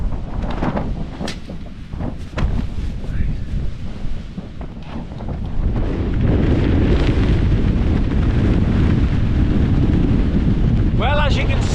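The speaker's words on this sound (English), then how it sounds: "as you can see, it's windy out here" Strong wind buffets and roars across the microphone on Cringle Moor, growing heavier and steadier partway through, with a faint chirp near the end.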